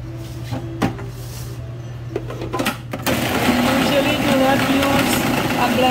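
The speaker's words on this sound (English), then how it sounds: "Now I'm going to grind the seasoning and I'm going to grind the peas" A food processor grinds seasoning and peas for Trinidadian polourie, kicking in about halfway through as a loud, steady, gritty whir after a few light knocks and clatters.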